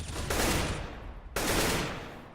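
Two sustained bursts of automatic gunfire in a CS:GO round, loud and close, the first running about a second, a brief pause, then a second burst that tapers off, with no talk over it.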